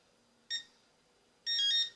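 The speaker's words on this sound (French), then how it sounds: "il faut rester quelques secondes dessus pour que ça fasse 2 bips pour rentrer dans le mode" Two electronic beeps from a pinpointer metal detector entering its mode in a quiet room: a short one, then a longer high-pitched tone a second later.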